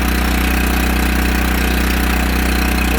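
A Kohler gas engine on a Miller Blue Star 185 DX welder generator runs rough, giving a loud, steady, close-up drone with a low throbbing hum and no voices over it.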